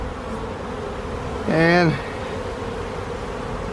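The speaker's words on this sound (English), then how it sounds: "There's just so many bees out here, guys." A swarm of honeybees buzzing outdoors as a steady, dense drone, with one louder, nearer bee whining past briefly in the middle, while a voice speaks a single short word.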